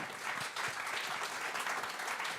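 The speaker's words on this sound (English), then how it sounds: "can we give them all a round of applause for their hard work?" Applause from an audience at a jazz chamber music concert, thanking the tech crew: a broad, steady wash of many hands clapping, moderately distant and even throughout.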